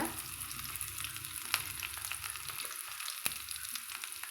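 Mustard seeds spluttering and small shallots frying in hot oil for an onion-leaf sambar, a constant quiet sizzle broken by a few sharp pops, with no voices.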